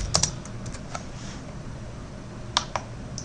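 Keys on a computer keyboard tapped while entering a folder name, giving a few sparse, quiet clicks in two short bursts with a pause between them, and no voices.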